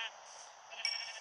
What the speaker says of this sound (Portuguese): Meu Deus, essa ovelha corre.